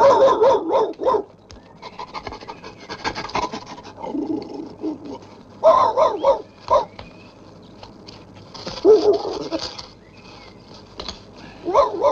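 Dog barking in bursts of sharp, near barks and yips separated by quieter pauses with some panting, repeating several times.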